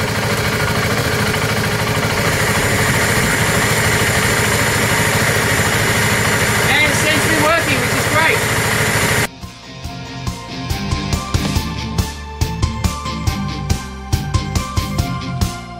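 A vehicle engine runs with a loud, steady drone for about nine seconds, then abruptly drops to a quieter, rougher idle marked by irregular ticking pulses.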